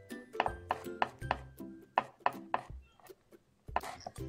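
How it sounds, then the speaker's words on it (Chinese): A knife mincing garlic on a cutting board, sharp close chops in irregular bursts of several quick strokes with short pauses between them, fairly quiet overall. "把大蒜切成蒜末"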